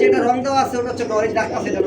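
Pigeons coo softly at a pigeon market, low throaty calls beneath someone speaking close by.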